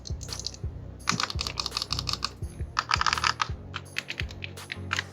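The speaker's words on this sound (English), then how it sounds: "So it's extra clicky, more like a mouse click or mechanical keyboard." Extra-clicky Mecha-Tactile buttons on a Razer Raiju Tournament Edition controller are pressed in quick, irregular bursts of sharp, close clicks, much like a mechanical keyboard, with brief pauses between clusters.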